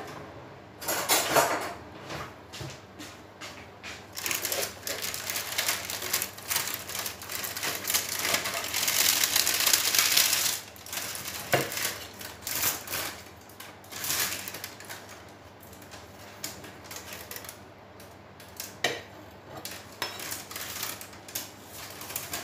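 Metal spatula scraping and clattering on a baking tray in a home kitchen: irregular scrapes and sharp knocks, close by, with a long dense scraping stretch in the middle.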